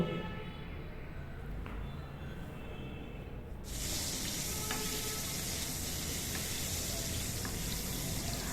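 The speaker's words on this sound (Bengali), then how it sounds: "কড়াইতে সামান্য তেল দিয়ে আলুগুলোকে হালকা সোনালি করে ভেজে তুলে নেব" Potatoes fry in a little oil in a wok, a steady close sizzle that jumps to a louder, brighter hiss partway through and then holds without pause.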